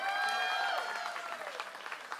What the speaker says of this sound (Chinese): 掌声再给马胜那一个掌声。